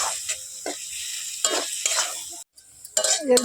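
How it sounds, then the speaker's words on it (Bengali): Dal being stirred and fried in hot oil in a pan, with a steady sizzle under repeated scraping strokes of a spoon and a brief pause before the stirring resumes, with no talking. "তেলের মধ্যে এখন শুধু ডালটাকে ভালো করে ভেজে নেব।"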